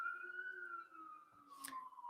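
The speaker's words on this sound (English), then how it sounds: "So you're hearing sirens." A faint emergency-vehicle siren on a city street holds a steady, slowly gliding wail throughout, distant and thin with a soft burst of other street noise near the end.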